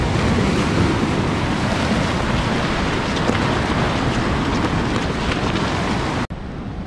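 Waves wash onto a Mediterranean beach as the tide rises, a loud continuous roar of surf with wind buffeting the microphone, running steadily before a brief cut near the end.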